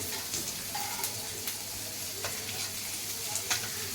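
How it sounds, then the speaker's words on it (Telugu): Chana dal fries in hot oil with onions and green chilies, giving a steady soft sizzle broken by occasional spoon scrapes and stirring clicks in the pan. "కొద్దిగా శనగపప్పు వేసి లైట్గా వేయించుకోవాలి"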